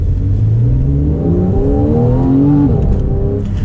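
A Porsche 991.1 Carrera 911 flat-six engine revs loudly up through the range while driving, the pitch climbing steadily and then dropping off near the end, with no talking over it.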